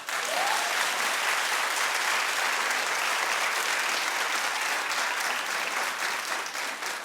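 Sustained audience applause fills the room, a thick, even wash of many hands clapping at once from start to finish with no voices on top.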